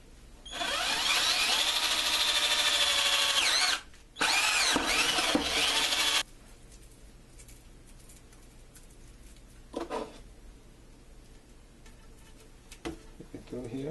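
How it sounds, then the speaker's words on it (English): A power drill whines loudly for several seconds, briefly pausing once, then stops; quieter handling noises and faint clicks follow. "Take and drill a hole here."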